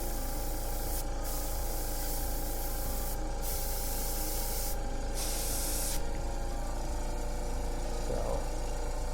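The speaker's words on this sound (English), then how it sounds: "I'm adding the last steps, these highlights from my airbrush." Airbrush spraying paint highlights, several short bursts of airy hiss, the longest near the end, over a low steady background hum.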